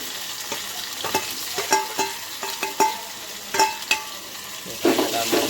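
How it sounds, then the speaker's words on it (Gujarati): Onion, tomato and chili frying in a pan for masala Maggi noodles, a steady sizzle throughout with repeated sharp scrapes and taps of a spoon stirring against the metal pan. "થોડુંક શેકાઈ જાય ટામેટું, મરચું અને ડુંગળી."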